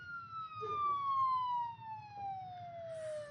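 A police siren from an unmarked car wails in one long falling tone, fairly clear and steady over a low background rumble.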